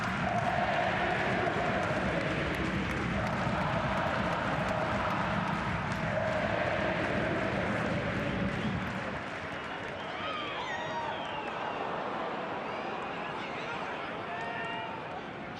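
A football crowd of almost 15,000 at Coopers Stadium in Adelaide during Adelaide United versus Melbourne City roars loudly beneath a commentator's talk, the swell easing to a lower, steadier murmur partway through.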